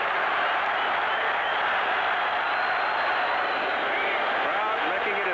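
A stadium crowd roars steadily at a 1984 USFL football game between the Chicago Blitz and New Orleans Breakers, a dense, continuous wash of far-off cheering and noise that fills the whole stretch.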